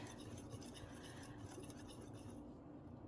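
Flour batter for Yorkshire puddings being whisked in a bowl, a steady close scraping and clinking of the whisk against the sides that runs continuously and fades slightly at the end.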